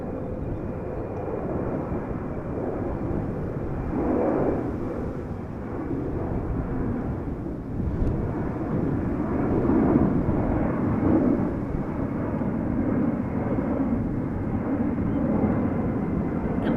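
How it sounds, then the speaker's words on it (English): A LATAM Cargo jet taking off at Amsterdam Schiphol and climbing steeply toward Frankfurt, its engines producing a broad, rumbling roar that swells and rolls at a distance, steady and loud. "LATAM Cargo, wow, taking off again, very steep climb"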